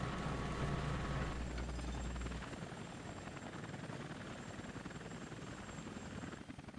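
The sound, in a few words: Chinook helicopter flying, from video game Air Conflicts Vietnam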